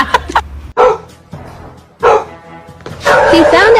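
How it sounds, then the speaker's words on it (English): A dog barks in sharp, separate bursts, spaced out over a few seconds, close and fairly loud, reacting in fear to balloons, with more excited sound building at the end. "My son didn't understand why he was barking"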